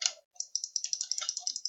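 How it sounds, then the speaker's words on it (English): Rapid computer keyboard typing, a quick run of light, even clicks following a brief burst of voice at the start, close and clear. "why am I typing?"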